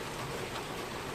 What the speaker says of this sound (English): See the rain back there behind the chairs?